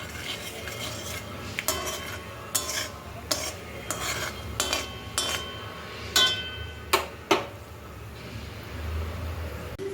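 Peanuts stirred in hot mustard oil in a pan for a homemade vegetable chop, heard as a string of sharp metal spoon scrapes and clinks against the pan at an irregular pace over a low background hiss, close and fairly loud.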